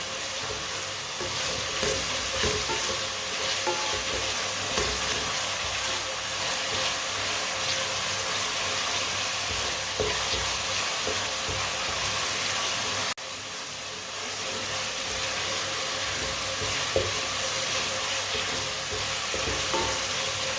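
Tomatoes cooking in a pan with potato and cauliflower curry, giving a steady, close sizzle and soft frying hiss that runs unbroken, with faint stirring scrapes and no talking.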